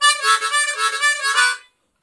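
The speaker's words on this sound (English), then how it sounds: "you can play a little complicated riff up here on the 4 and 5 hole" Harmonica playing a quick blues riff on the 4 and 5 holes, a bright reedy run of short pulsing notes, close and alone, ending abruptly after about a second and a half.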